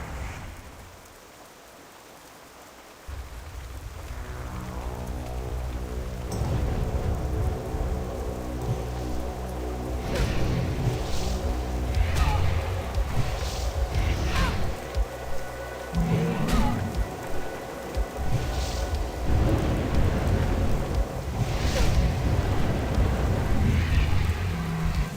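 Rain and a thunderstorm in World of Warcraft Classic's Feralas zone. A steady downpour rises after a few quiet seconds and holds at an even level, with thunder cracks and rumbles breaking through every few seconds.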